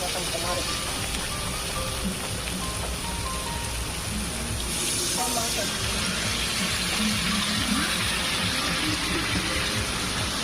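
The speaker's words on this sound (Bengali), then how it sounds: "দিয়ে দেবো এখন জল" Water pours and splashes into a pan of puti fish curry in a home kitchen, a steady gushing wash beneath faint background clatter and sizzle.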